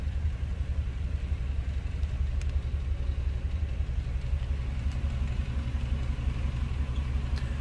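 An old 1951 Lincoln Cosmopolitan car engine idles steadily with a low, even rumble, close by and continuous with no talking.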